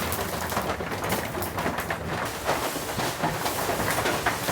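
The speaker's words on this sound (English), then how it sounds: "there's like more of like a dulled out noise from the raindrops than the red shack" Heavy rain drums steadily on the roof of a rustic wood-clad cabin with thick ceiling insulation, a dense, dulled, continuous patter with no talk.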